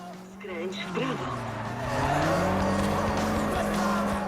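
A BMW M5 races in the Forza Horizon video game, its engine droning steadily as tires squeal in long sliding whines, with a rising engine note and other cars audible nearby.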